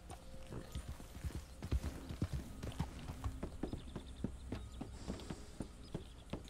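Horse hooves clip-clop in Red Dead Redemption 2, a steady run of sharp, close hoof strikes with a brief whinny amid low game ambience, no talk.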